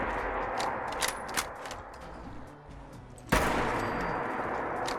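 An Orsis 17 sniper rifle fires in Fallout 4, a few sharp cracks early on and then one loud, close shot booming out and leaving a lingering roar.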